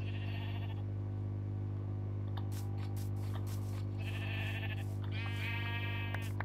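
Sheep in the Minecraft video game bleat several times in quick succession, clear and fairly loud over a steady background hum.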